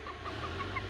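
A three-month-old backyard stag, a young rooster, gives a few soft, short clucks in quick succession, faint against low background hum, with no voices.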